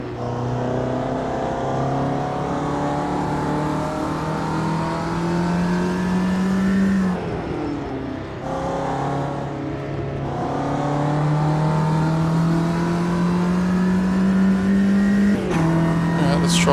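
A Ginetta G40 race car engine in the racing game Automobilista 2 drones loud and close, rising steadily through the gears, with a sharp drop around a shift or lift midway before climbing again, a brief tyre squeal near the end.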